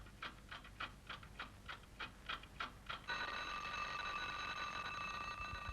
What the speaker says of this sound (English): There goes the alarm. It nearly shakes Hammy to pieces.